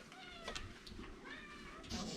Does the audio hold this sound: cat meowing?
yes